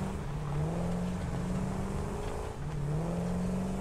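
The Explorer vehicle from the video game Satisfactory drives along with a steady, loud engine hum that rises and falls slightly in pitch. No one speaks.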